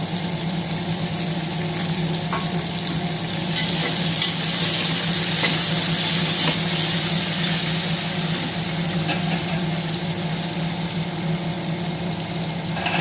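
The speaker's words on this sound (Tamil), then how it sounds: "இதில் வந்து வெங்காயத்தை போடுவோம். பெரிய வெங்காயம் வெட்டி வச்சுருக்கோம், அதை போடுவோம்." Chopped large onions fry in a pan for tomato rice with a loud, steady sizzle that swells in the middle, with occasional stirring scrapes and no talk.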